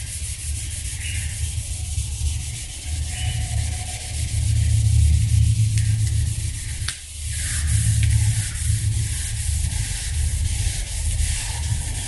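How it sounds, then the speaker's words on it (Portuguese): Continuous close abrasive rubbing of sanding on a car's paint surface, steady and loud with a brief pause midway. "Vocês podem perceber que agora mudou o barulho do lixamento"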